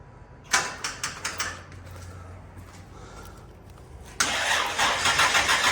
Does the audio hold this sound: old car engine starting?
yes